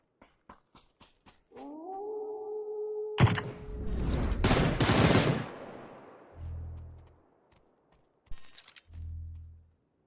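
Gunfire in PUBG: a few faint ticks, then a loud burst of shots and blasts that rumbles and fades, followed by two more low booming hits.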